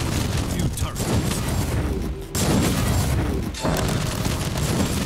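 Turrets firing in the Warhammer 40K Inquisitor Martyr game, a dense loud barrage of booming shots and blasts with brief lulls, with a voice talking over it.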